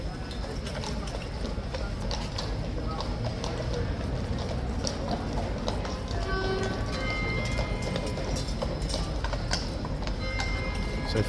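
King's Guard horses clip-clop on hard ground as they are led into their stables one by one, their hooves sounding in a steady, uneven patter. Crowd chatter and voices run under the hoofbeats.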